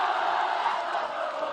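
The Stockdale Mustang student cheering section at a high school football game roars as a dense, sustained crowd yell, loud and steady throughout with no break.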